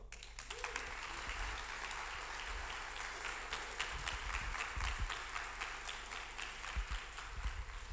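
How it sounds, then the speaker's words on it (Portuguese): A church congregation applauds during a family celebration service, a steady, fairly distant wash of clapping that runs throughout, with a low hum underneath. "Se eu fosse você, eu aplaudia"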